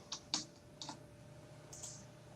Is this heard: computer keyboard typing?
yes